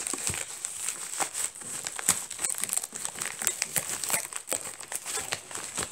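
A small package being unwrapped, its wrapping crinkling and rustling continuously up close and fairly loud, with no talking over it.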